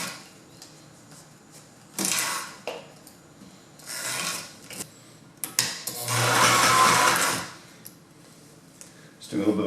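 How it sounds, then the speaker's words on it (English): A sewing machine stitching a locking stitch in car upholstery for a custom Suburban, running in several short bursts of a few seconds each with pauses between, the longest burst near the end, with handling noises in the gaps. "Just doing a little bit of a locking stitch there."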